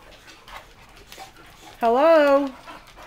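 Dogs whimper and pant indoors; a single loud, drawn-out whine rises and falls for under a second after softer panting and shuffling, and a person speaks briefly.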